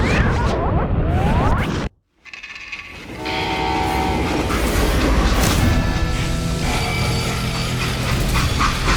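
A freight train in the Western video game Call of Juarez: Gunslinger rumbles loudly with a blaring horn. The sound cuts out briefly, then a heavy, steady rolling roar of the cars returns and carries on.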